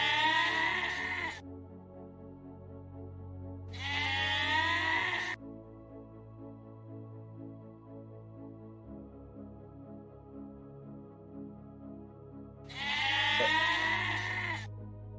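A sound-effect goat bleat plays three times, each a loud, quavering cry about a second long. Long quiet stretches with a faint low hum separate the bleats.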